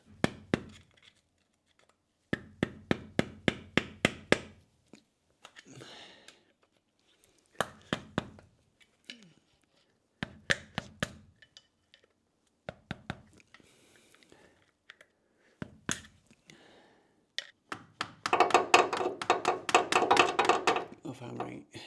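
Bursts of rapid metallic tapping as a hammer bends out metal shims on a Land Rover Series 2A, in short clusters separated by pauses, close and crisp, with a louder, denser stretch of hammering near the end.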